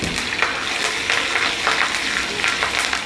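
A tadka of red chillies, cardamom and curry leaves sizzles and crackles steadily in hot oil for dal, close and loud, with bursts of popping throughout.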